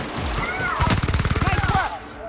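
Rapid automatic gunfire from The Outer Worlds, a fast burst of about a dozen evenly spaced shots lasting around a second over steady game ambience and music.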